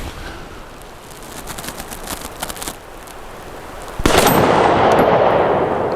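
Distant gunfire from a shooting range, one report resembling a .308 rifle, arrives as a series of faint sharp cracks, then a loud rushing wash of noise swells up close and holds.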